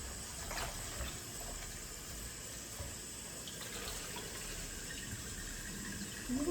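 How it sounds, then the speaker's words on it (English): Tap water runs steadily into a kitchen sink while chicken wings are rinsed under it, a soft continuous splash with no talk. "Rinse it a little bit more."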